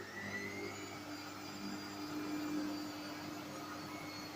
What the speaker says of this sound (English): Right, third interim spin, apparently 56 minutes left.